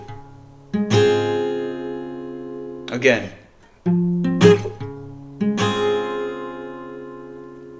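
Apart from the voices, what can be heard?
guitar strumming pattern for a song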